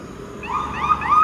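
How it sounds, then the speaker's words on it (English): An ambulance siren wails in the distance, its rising and falling tone emerging over low traffic rumble. "Too bad this bus didn't wait for this ambulance."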